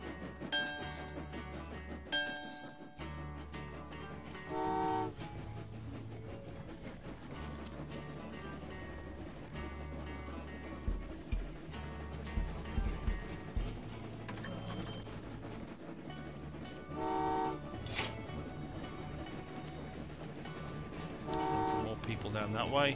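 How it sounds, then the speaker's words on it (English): Trains in the Train Valley 2 railway game run along their tracks, with repeated short horn toots and light metallic clinks over a steady low rumble and game music. "Time to get trains moving this general direction."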